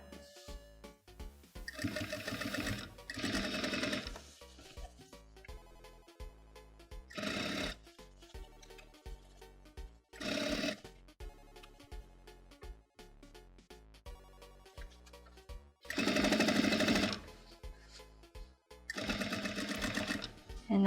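Home sewing machine stitching a thick jeans waistband, running in several short bursts of rapid rhythmic stitching with quiet gaps between, fairly close and loud, no talking.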